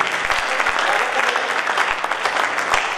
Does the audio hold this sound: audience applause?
yes